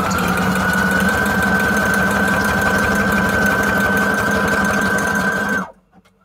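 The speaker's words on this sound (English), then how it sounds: "Let's just go back to the good old zigzag." A sewing machine runs a zigzag stitch on paper embellishments for a junk journal, a close, steady whirring hum with rapid mechanical ticking that stops abruptly near the end.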